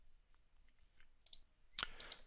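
Several quiet computer mouse clicks in quick succession, sharp and close, during vector design software work on a raised panel door, with a louder cluster of clicks near the end.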